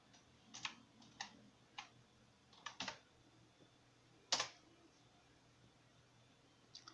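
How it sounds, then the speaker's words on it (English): Clicks of typing on a computer keyboard while entering disk-cleaning commands to repair a corrupted USB flash drive: scattered single keystrokes and short bursts, faint and close, over a low steady hum with no talking. "Now I'm going to type in clean."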